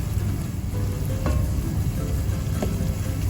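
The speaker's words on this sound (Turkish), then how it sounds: "Arada pirinçlerimiz kavruluyor." Rice toasting in a pan for an anchovy pilaf with tomato paste added, a loud, close, rumbly sizzle with a couple of brief scraping stirs and no talking.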